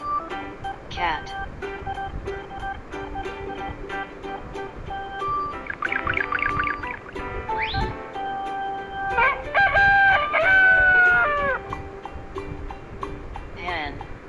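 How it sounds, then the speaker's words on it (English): A hen clucks in short bursts and a rooster crows loudly, close by, the calls overlapping in separate phrases with brief gaps between them. "Hen."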